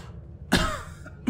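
A single sharp cough close by, a short burst with a second brief one at the end, over quiet room background.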